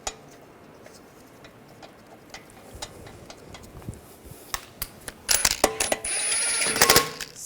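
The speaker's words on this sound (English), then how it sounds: "Take the lug bolt, get that started." A lug bolt is started by hand on a 2009–2010 BMW 535i xDrive front wheel, giving light metallic ticks and clinks, then a denser burst of rattling metal near the end, close and without talk.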